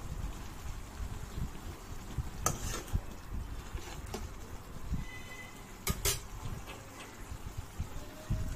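A spoon stirs Maggi noodles with masala in a pan, quiet scraping and soft clinks of metal against the pan, with a couple of sharper knocks over a low steady background.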